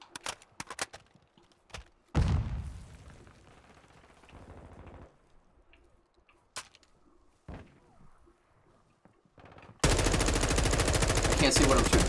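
Call of Duty match gunfire: scattered single shots and short bursts, a heavy burst around two seconds that trails off, then sustained loud automatic fire at the end, with faint keyboard clicks between.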